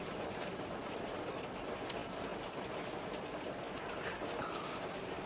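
Steady rain pours down in a continuous, even hiss, with no voices and no pauses, in a scene from the 2008 film Twilight.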